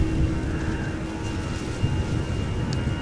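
An EasyJet Airbus A319 departs Amsterdam Schiphol for London Luton, giving a moderate, steady jet engine rumble with a faint whine, heard alone without talk.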